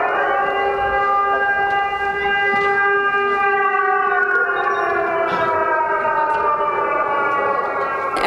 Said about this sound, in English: Every time the siren is here, I just tell her that it's fireworks.